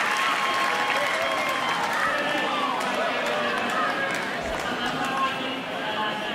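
Spectators at a 2014 Yonex Dutch badminton mixed doubles final applauding, a loud, continuous wash of clapping and crowd noise filling the whole stretch, with a commentator's voice over it.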